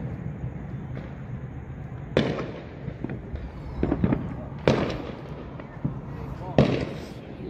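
Fireworks bursting near a house during Fourth of July celebrations: a handful of sharp cracks and pops spaced a second or two apart, mid-distance, with people talking throughout.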